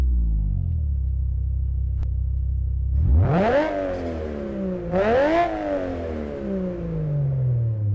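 A Nissan Skyline R34 GT-R engine in JDM Japanese Drift Master idles low, then revs hard twice, each rev rising sharply and falling back, loud and close with no talk.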